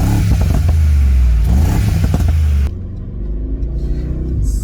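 A 2019 Mercedes-Benz G63 AMG engine revs hard as the vehicle pulls away, a loud, deep rumbling roar that swells and then drops to a lower steady drone, heard up close with no voices.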